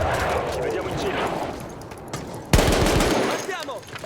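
A big gun firing in Battlefield 1, with rapid bursts of automatic gunfire and heavier blasts, including a sharp loud report midway, mixed with battle noise and someone talking over it.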